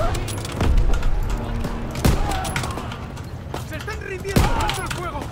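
In Call of Duty: WWII, several sharp gunshot bursts crack out at irregular intervals during trench-clearing combat, with voices talking and shouting between the shots.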